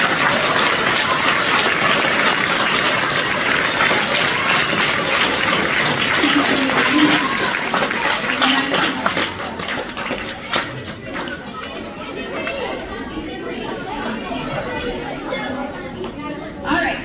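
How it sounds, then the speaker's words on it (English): Audience applause at a fifth-grade elementary school award ceremony, a dense wash of clapping with crowd chatter that thins out in the final seconds. "would you please give them a well-deserved round of applause?"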